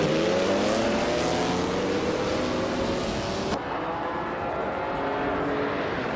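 Racing car engines from a video game, with a classic 1956 Lancia D50 on pole, rise in pitch as they accelerate together off the start at Circuit Essen, a dense continuous roar that cuts abruptly partway through.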